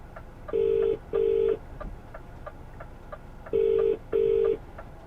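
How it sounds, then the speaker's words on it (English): A telephone call is placed and rings out: a pair of electronic ringback tones, a pause filled with soft ticking, then another identical pair, all clean and steady with no voices. "let's try the phone call again"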